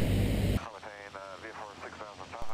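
A loud, dense engine drone fills a small airplane cabin in flight at the start and returns at the very end. In between, a person talks over a quieter hum.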